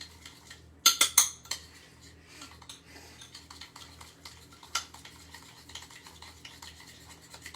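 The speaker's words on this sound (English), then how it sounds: "Tablespoon of honey. Give this a good mix." A spoon stirs a honey mixture in a bowl with a tablespoon of honey, opening with a few sharp clinks against the bowl and settling into soft, quiet scraping and rubbing.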